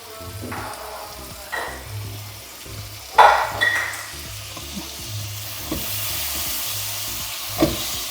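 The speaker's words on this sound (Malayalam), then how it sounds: "തക്കാളിക്കും കൂടി ഇട്ട് നന്നായിട്ടൊന്ന് വഴറ്റുക" Tomatoes sauté in hot oil in a pan for moru curry, giving a steady sizzle with occasional spoon scrapes and knocks against the pan, one louder clatter partway through, and no talking.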